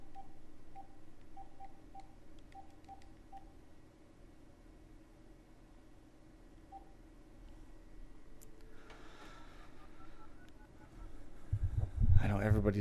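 A telephone keypad beeps out a run of short, evenly paced dialing tones, followed by a quiet pause and then rising line noise and a loud rustle at the end.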